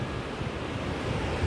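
The Beas river in Kullu rushes loudly and steadily, a dense broadband roar of flowing water heard close with no voices over it.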